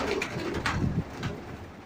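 Pigeons let out of their loft before feeding coo softly nearby in short low murmuring phrases, with faint flutters and rustling around them.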